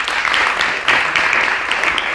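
An audience breaks into loud, close, continuous applause with crisp overlapping claps, sustained throughout.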